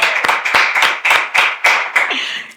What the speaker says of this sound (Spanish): otro aplauso, por favor